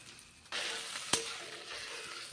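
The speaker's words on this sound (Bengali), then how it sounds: "মুগের ডাল ভেজে নিচ্ছি এখন ভালো করে ভেজে নিচ্ছি" Mung dal fries in a pan, with a quiet hiss that jumps to a louder steady sizzle, then a single sharp clink partway through as it is stirred; no voices.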